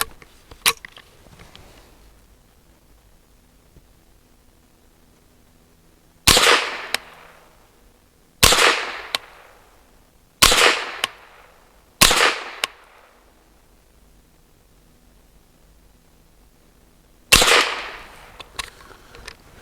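Pistol shots from an MBGL Goat-15 loaded with Aguila Super Extra copper-plated ammunition, five sharp loud cracks fired singly with pauses of a second or two between them and a faint shot at the start, over a quiet background.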